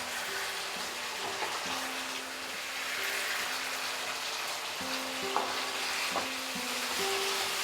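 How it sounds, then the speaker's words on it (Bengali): Spiced chicken sautéed in a pan gives off a continuous soft sizzle, with a spoon scraping and stirring at intervals over a faint steady hum; no one speaks. "দিয়ে আরও মিনিট খানেক নাড়তে নাড়তে এটাকে কষিয়ে নিচ্ছি"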